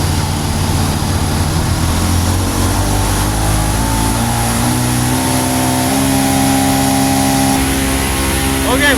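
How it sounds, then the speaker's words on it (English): A truck engine with the PTO engaged, revved to 1100 RPM to run a pneumatic trailer's unloading system: a loud, steady diesel drone with rising and shifting tones, continuous and close. "Turn on the PTO. Run our RPMs up to 1100."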